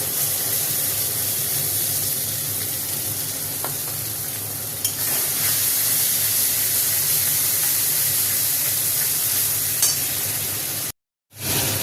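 Spices fry in hot oil in a wok with a loud, steady sizzle and hiss that runs throughout, a few faint stirring clicks, then a short cutout near the end.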